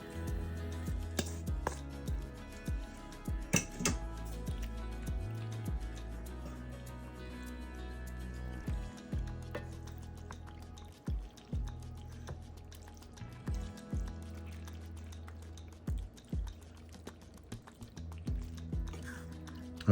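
Drained pasta is stirred through creamy chicken stroganoff in a pan, giving soft irregular scraping and wet clacking taps of a spoon against the pan that repeat unevenly, close and fairly loud, with no talk.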